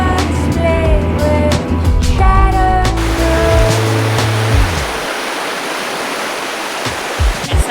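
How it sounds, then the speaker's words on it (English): A mountain river in Triglav National Park, Slovenia, rushes in a steady, broad roar throughout, with tonal music layered over the first half before the water sound continues alone. "It's mountain river."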